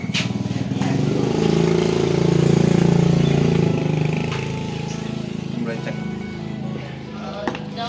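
A motorcycle engine runs steadily close by during a roadside check by police, with a continuous low rumble that swells and then eases. It sounds throughout under nearby conversation.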